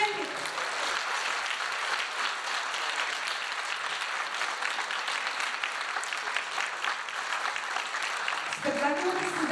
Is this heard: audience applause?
yes